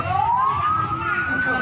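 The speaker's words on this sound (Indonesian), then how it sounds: "Sudah mulai masuk ke ambulan masuk gerbang." Ambulance siren entering a gate in an Indonesian hospital procession, a rising wail heard at moderate distance over low rumbling traffic and background noise.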